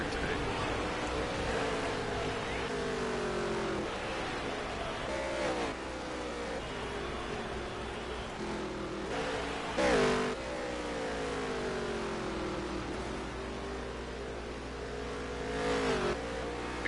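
Race cars from a racing video game roar around the track, engines droning and shifting pitch continuously as cars pass and change gear, a steady loud wall of motor noise under faint commentary talk.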